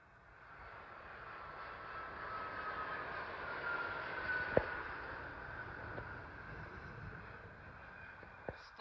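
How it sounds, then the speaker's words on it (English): A Virgin Atlantic Boeing 787 Dreamliner lands at London Heathrow, its engine roar rising gradually to a broad, distant rumble with a few faint clicks, heard alone without talk. "coming in now is a Virgin Atlantic 787 Dreamliner from Delhi"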